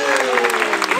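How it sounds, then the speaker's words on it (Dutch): Audience at an Efteling fairy-tale show claps in a brief burst of dense applause, while a voice with sustained tonal speech or singing runs over the clapping. "mag ik een hartelijk applaus?"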